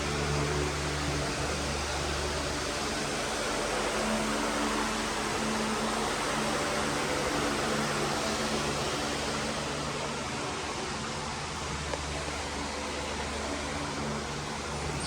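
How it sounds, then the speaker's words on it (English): Several fans run steadily to dry drywall that got wet, a dense, even broadband whoosh with low hum holding constant and fairly loud throughout, with no talk. "Just got some fans going here because it got a little wet"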